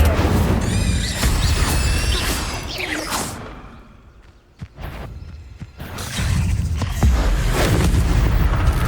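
A fire spell is cast in Hogwarts Legacy, a video game: loud whooshing blasts and booming bursts, with a brief lull midway before the roaring effects swell back up.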